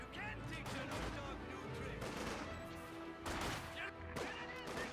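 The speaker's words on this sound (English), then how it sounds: "Getting behind a rifle grenade, firing." Rifle grenade fire and scattered gunfire in the strategy game Company of Heroes 2, a steady battle din with sharp bangs and thumps throughout, under a voice talking.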